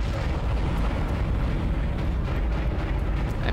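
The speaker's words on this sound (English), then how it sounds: "I'm getting punched by the asteroids." Asteroid impacts pounding the ship in the Dead Space video game: a continuous, dense roar of rumbling blasts and bursts, loud and unbroken throughout, with no clear gaps between hits.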